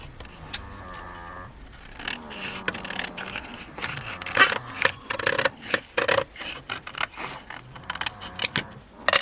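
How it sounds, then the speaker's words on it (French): Scissors snip through paper in a run of quick, irregular crisp cuts, close up, with faint handling noise between them. "Je vais prendre mes ciseaux."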